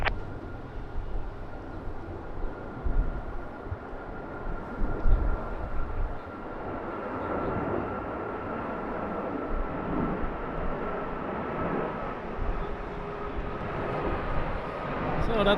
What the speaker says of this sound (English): So that was Top coming in from London. It's the Airbus 321.